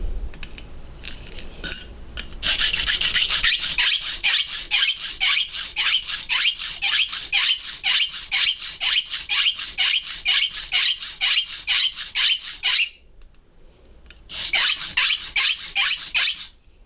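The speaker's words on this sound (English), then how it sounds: "So to do some filing on that real quick here" Rhythmic rasping strokes of a hand file shaping a hand-made key, steady back-and-forth scrapes close up, pausing briefly near the end before resuming, with no talking.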